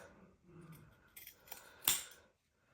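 Scissors snip through the fabric of a homemade make-up remover cloth in a few quiet, close cuts, ending in one sharper snip.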